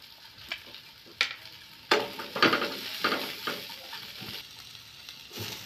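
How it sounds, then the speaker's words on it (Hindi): Sliced onions and capsicum fry in hot oil in a pan with a steady sizzle, broken by several scraping stirs of a spatula, close and fairly loud with no talk. "इसमें जो प्याज लंबे लंबे काटे थे इसको फ्राई कर लेते हैं, साथ में शिमला मिर्च को भी हल्का सा नरम कर लेते हैं।"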